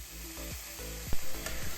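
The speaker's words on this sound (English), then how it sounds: "Let's start by sauteing some onions in the olive oil." Thinly sliced onions sauté in olive oil in a skillet, a brief close sizzle over a steady hiss with a few soft scraping stirs.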